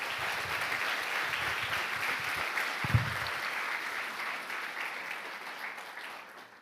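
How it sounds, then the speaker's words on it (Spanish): Church congregation applauding during a Spanish-language sermon, a full sustained round of clapping with one loud thump partway through, gradually fading at the end. "Dale ese aplauso al Padre"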